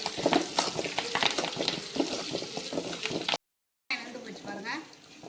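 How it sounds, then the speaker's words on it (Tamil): Shallots and curry leaves frying in oil in a pan for sambar rice, a steady crackling sizzle with stirring scrapes, a brief gap, then the sizzle resumes with softer bubbling. "சின்ன வெங்காயத்தை போட்டுக்கலாம்."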